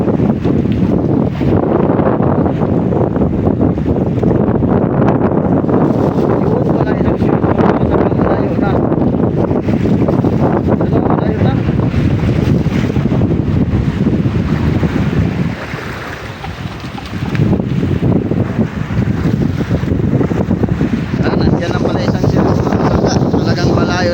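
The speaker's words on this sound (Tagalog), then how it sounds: "Malalaki na rin ang alon, saka palakas ang hangin." Strong wind at sea roars across the microphone aboard a fishing boat over constant crashing water and waves, a loud, unbroken rush that briefly dips partway through.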